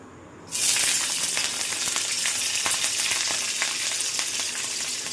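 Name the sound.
chilies frying in hot oil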